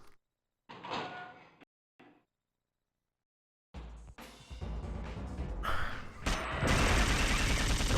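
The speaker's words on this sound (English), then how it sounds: "I love the submachine gun so much." Submachine gun fire in Dino Crisis 2 arrives after near silence and a few short scraping bursts, then erupts into loud, dense rapid-fire rattling that builds and sustains to the end.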